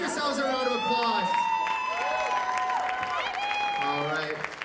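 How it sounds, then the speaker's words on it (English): A crowd applauding and cheering loudly, with whoops and shouting voices mixed in throughout. "Give yourselves a round of applause."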